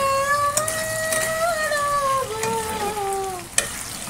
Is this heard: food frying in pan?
yes